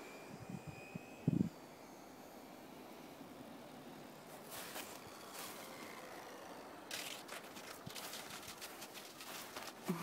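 HobbyZone Super Cub RC plane fitted with floats comes in to land on snow, its small electric motor a faint, steady whine in windy outdoor air, with a brief thump near the start and crunchy scraping bursts as it touches down and slides.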